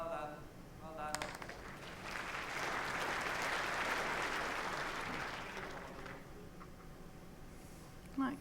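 Spectators at the 2016 World Bowls Championship break into applause that swells, holds steady for several seconds and then fades, with commentators talking quietly before and after.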